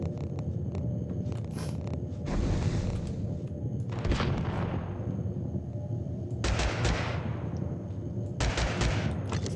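Gunshots ring out in Totally Accurate Battlegrounds, a few sharp cracks and bursts spread over a steady background din, moderately loud with gaps between volleys.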